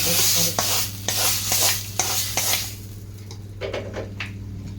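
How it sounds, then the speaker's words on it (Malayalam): A spoon scraping and stirring cassava stew with mustard seeds and garlic in a sizzling pan, with rhythmic strokes and light clinks of utensil against metal. "നന്നായി മിക്സ് ചെയ്ത് കൊടുക്കാം"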